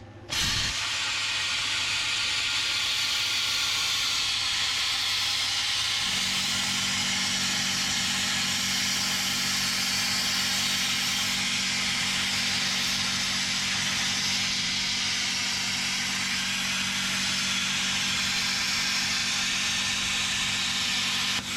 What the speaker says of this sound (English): my compressor is too small to run a plasma